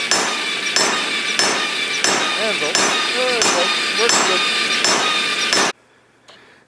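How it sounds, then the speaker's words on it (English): Rapid, steady rhythmic pounding of a power hammer forging metal, with an anvil made from railway track, loud and continuous, with someone speaking briefly before it stops abruptly. "I'll just keep this one all about the power hammer"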